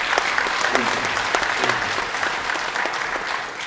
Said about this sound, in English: Everybody give Donna a round of applause.